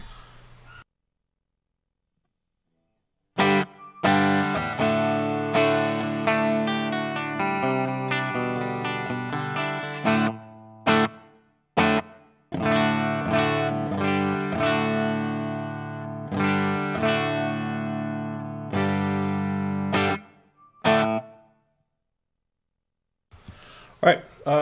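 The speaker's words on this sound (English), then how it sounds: "That's some light reverb. I think I got the hall reverb right now." An electric guitar plays a series of strummed chords and picked notes with a light hall reverb tail, pausing briefly between phrases.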